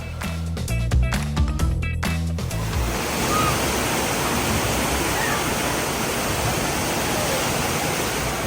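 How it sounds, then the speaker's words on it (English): Waves churn in the wave pool at Aquatica Orlando with a loud, continuous rushing wash that takes over after a few seconds of music and stays close and steady. "And bonus about this pool, it's a wave pool."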